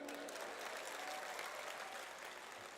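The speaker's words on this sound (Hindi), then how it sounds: "अच्छे से तालियां बजाइए।" Dense, steady applause from an audience at a Hindi comic poetry gathering (kavi sammelan) fills the whole short stretch, many hands clapping together at an even, full level with no voices standing out.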